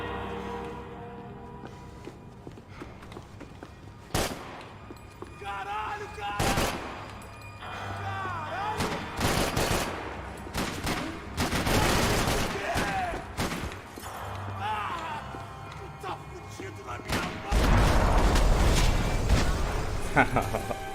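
Gunfire from the video game Max Payne 3: repeated loud shots and rapid bursts over about twenty seconds, with crashes and heavy rumbling toward the end, mixed with game sounds and talk.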